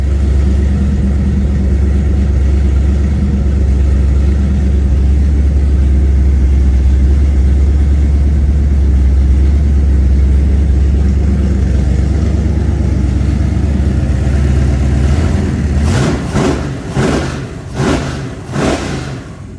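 A Nova's engine fitted with Sniper EFI and open headers idles with a loud, steady rumble, then revs up sharply several times in quick succession near the end.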